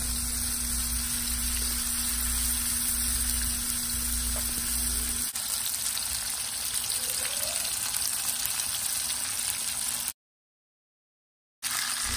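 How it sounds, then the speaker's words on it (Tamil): Prawns fry in hot oil on a medium flame, giving a dense, steady hiss and crackle up close. The sizzle fills the scene almost without a break before cutting to a brief silence near the end. "ஆயில் கொஞ்சம் சூடானதுக்கப்புறமா நம்ம வந்து ப்ரான்ஸ் அதில் சேர்த்துடலாம்."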